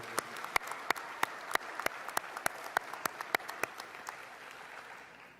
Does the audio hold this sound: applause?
yes